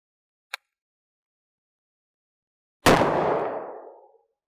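A single sharp gunshot from a .327 Federal Magnum revolver fired into a gel block, loud and close with a short ringing decay, following a faint click a couple of seconds earlier.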